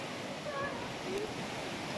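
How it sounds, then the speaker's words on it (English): Pure water stream flowing out of the Sinharaja rainforest reserve, a steady broadband rush of running water with no clear pauses, heard close and moderately loud across the whole span. "This is a pure water stream."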